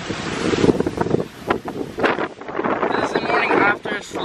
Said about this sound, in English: You guys can already tell this wind is getting crazy.